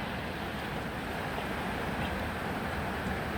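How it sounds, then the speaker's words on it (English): Wind blows steadily past a small reflecting pond outside the Museum of the Future in Dubai, a soft continuous rushing hiss with gentle buffeting, fairly faint and with no voices. "And you can hear the wind."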